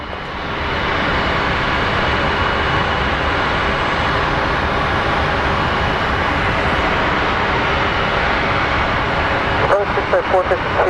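Steady, loud roar of a jet airliner at Phoenix Sky Harbor International Airport, a broad continuous engine rumble that holds throughout with no pauses, close and dominant.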